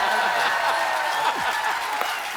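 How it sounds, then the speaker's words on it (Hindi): Studio audience on a comedy talk show applauding in a sustained wash of clapping, with someone talking over it. "इतनी तालियों से बंदा मरवा देना आप लोगों ने"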